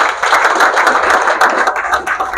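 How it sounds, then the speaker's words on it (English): Audience claps for a youth choir as the singers walk in and line up at a choir launch, a loud, close, steady patter of many hands with no voices over it. "Let's clap them as they come."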